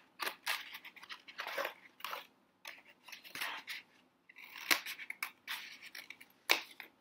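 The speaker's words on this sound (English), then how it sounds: "now I'm going to take my scissors and I'm going to cut off any extra bits like this flap" Scissors snip through a pink cardboard egg carton, trimming off flaps and extra bits for a seed planter, in a run of close, crisp crunching cuts with short pauses between them, and no one talking.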